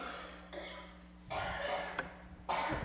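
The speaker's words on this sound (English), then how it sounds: "All y'all coughing" Several coughs from different people in a room during a budget hearing, a few isolated bursts spread out over a low background hum.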